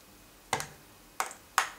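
Sharp small clicks as a knife pries a MAC eyeshadow pan out of its plastic base, three distinct close snaps with a pause after the first.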